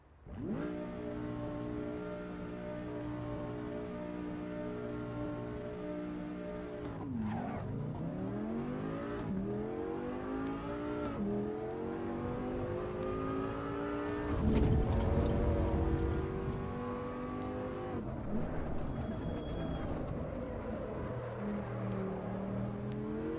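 A race car in Assetto Corsa EVO revs and accelerates through repeated gear changes, its engine tone sweeping upward in loud, steady runs with a brief rougher burst midway, heard alone.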